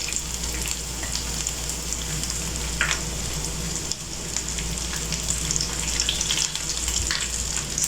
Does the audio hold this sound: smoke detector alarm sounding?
no